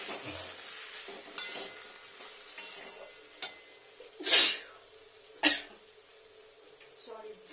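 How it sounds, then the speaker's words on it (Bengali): A spatula stirring fried food in a pan just after the stove is switched off, giving a soft steady sizzle with scattered light scrapes and taps, broken by a loud cough and a throat clearing nearby. "ওভেনটা অফ করে দিই, কিছুক্ষণ নাড়া দিতে থাকি"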